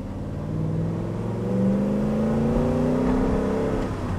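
A Spyker C8 supercar engine revs steadily from onboard, a loud, deep droning note that climbs and swells in pitch over a few seconds with no talk.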